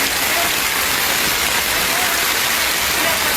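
Heavy rain pours in Manaus, a loud, dense, unbroken hiss of water drumming on surfaces throughout.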